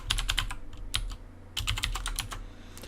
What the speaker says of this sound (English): if I could type